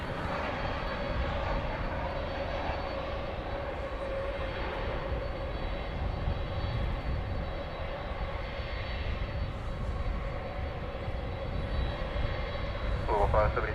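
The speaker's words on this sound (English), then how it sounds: "Have a United plane coming in." A United airplane coming in at DFW Airport, a steady drone of aircraft engines holding throughout, with air traffic radio chatter running underneath.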